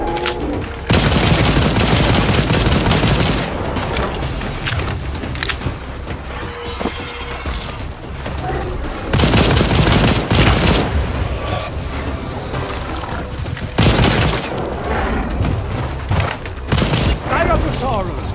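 Dense sustained gunfire from the Second Extinction co-op shooter while fighting dinosaurs, loud continuous volleys with heavier booming shots and mechanical clatter, running almost without pause through the whole stretch.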